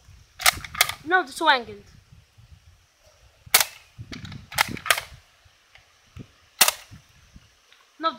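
A Nerf N-Strike Elite Strongarm blaster fires darts in several sharp, close snapping pops spaced a second or two apart, with brief talk between shots.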